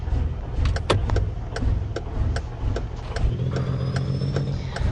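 A truck with a straight-piped 386 engine and an 18-speed Eaton Fuller transmission rumbles steadily up close, its low engine drone continuous with a few sharp clicks and knocks over the top.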